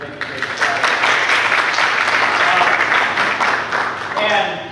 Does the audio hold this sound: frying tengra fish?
no